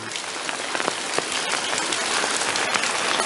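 Steady heavy rain pours on surfaces around a house in the rainy season, a thick unbroken hiss dotted with close drips and splashes.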